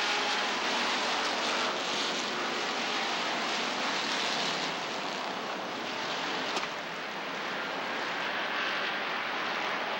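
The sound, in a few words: race cars starting a race at Rockford Speedway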